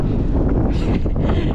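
Strong wind at Weymouth Beach, New Zealand, roaring loud and unbroken against the microphone, with slight swells in the gusting and no voices.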